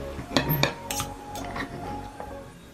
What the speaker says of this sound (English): Did you see me a second ago trying to cut up a chopstick?